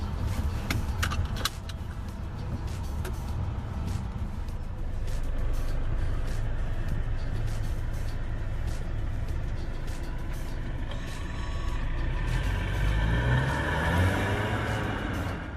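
A 2021 Mercedes-Benz GLC driving along, a steady interior road rumble with a few rattles and clicks, and the engine rising in pitch near the end.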